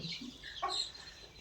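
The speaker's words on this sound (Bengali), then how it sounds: "একটা মুরুক আছে আর সাতটা মুরগি আছে" Backyard chickens kept with a rooster give a short, close cluck or two, a brief throaty call against faint background noise.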